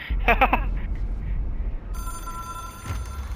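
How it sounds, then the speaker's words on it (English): Telephone ringing in the video game Control, a metallic bell-like trill in a few quick bursts at the start, then a steadier electronic ringing tone later, moderately loud over a low ambient hum. "It is a phone."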